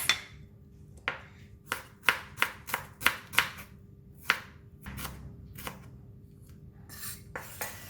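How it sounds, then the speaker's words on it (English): A knife chops shallots on a cutting board while a spicy corn salad is prepared, a dozen or so crisp, close knocks landing at uneven intervals with quiet pauses between, and no talking. "Next, we're going to cut the shallots."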